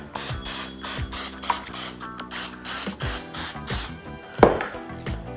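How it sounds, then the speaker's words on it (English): Short hissing bursts of non-stick cooking spray from an aerosol can, several quick sprays in a row at close range with a louder burst near the end. "you just douse it with some non-stick spray"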